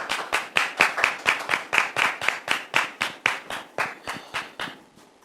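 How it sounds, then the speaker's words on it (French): A studio audience on a French talk show claps to welcome a second guest, a loud rhythmic burst of about twenty evenly spaced claps that fades out toward the end. "Public, merci de le recevoir sous vos applaudissements"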